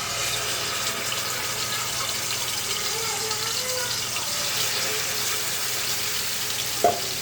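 Chicken pieces for a grill recipe fry in a pan, a constant close crackling sizzle with faint stirring and a brief clink near the end.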